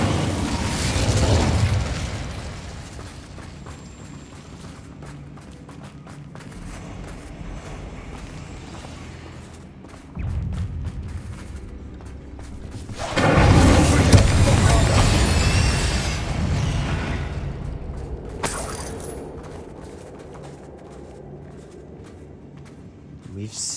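An Incendio fire spell in Hogwarts Legacy blasts out as a loud roaring burst with a whooshing rush, followed by a second heavy fiery boom midway that slowly fades, over a low ambient rumble.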